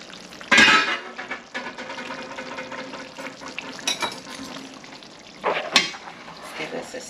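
Spoon scraping and clattering in a pot of Cuban-style oxtail stew, with a soft simmering sizzle underneath, close and fairly quiet, marked by a few louder knocks against the pot.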